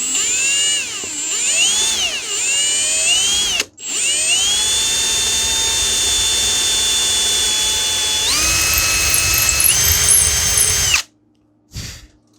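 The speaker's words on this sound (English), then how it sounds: "we're going to go ahead and drill down right here" Power drill boring a 1/8 in bit into a plywood block inside a Great Planes Ultra Sport 1000 model airplane fuselage; a steady close whine with wavering pitch, pausing briefly near four seconds, rising in pitch later, then stopping with a short final burst.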